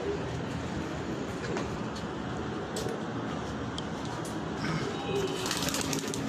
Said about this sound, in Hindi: फ्रांसा कबूतर है ये